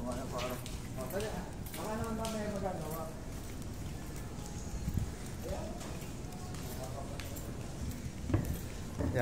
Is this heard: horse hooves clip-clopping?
yes